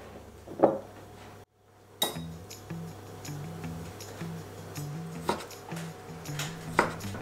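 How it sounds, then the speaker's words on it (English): Pickles and grilled red peppers chopped with a knife on a board, scattered close knife taps with a few sharper knocks, fairly quiet over a low steady background hum. "I'm gonna chop my pickles and red peppers."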